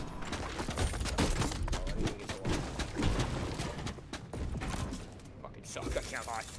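Minigun in Fortnite spinning and spraying a dense, continuous stream of rapid shots with mechanical whirring, loud and near, sustained for several seconds as a voice talks over it.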